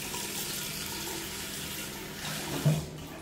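Water runs steadily from a tap while a dog is showered, a continuous close hiss with a brief splash near the end and no talking.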